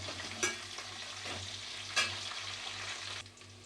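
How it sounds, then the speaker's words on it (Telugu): Onions and curry leaves fry in a pan with a steady sizzle, broken by a few sharp scraping stirs and a low hum running throughout. "ఇందులోనే కరివేపాకు కూడా వేసుకొని మనకి ఉల్లిపాయలు మంచి బ్రౌన్ కలర్ వచ్చే వరకు ఫ్రై చేసుకోవాలి."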